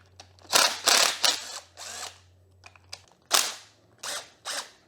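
A ratchet loosens a hose clamp on the fork of a Honda CRF230F dirt bike. Several sharp, close clicking bursts come in irregular runs with short pauses between them, and no one speaks.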